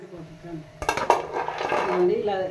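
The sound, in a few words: peanut pakodi being transferred into another bowl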